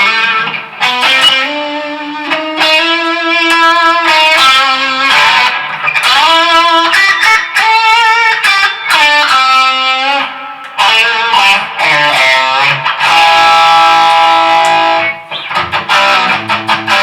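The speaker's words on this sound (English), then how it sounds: "With the reverb, it's really cool" Electric guitar with a spacious reverb rings out in a long, loud run of notes and chords, with tails washing between phrases.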